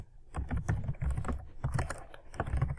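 Keys clatter on a computer keyboard in quick, uneven runs of close, moderately loud clicks, with a short pause midway.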